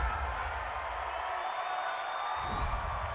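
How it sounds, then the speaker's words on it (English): A home crowd at an NFL game between the Cincinnati Bengals and Cleveland Browns cheers a penalty flag, a broad, steady roar of massed voices heard at a distance under faint talk. "This home crowd, they're happy with that call."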